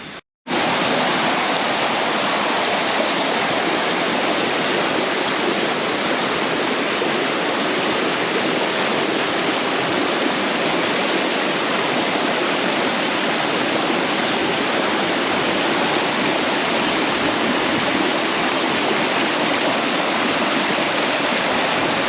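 Rushing river rapids pour over a man-made dam in Khao Yai National Park, Thailand, a loud, steady broadband roar of churning water that continues unbroken from start to finish with no voices.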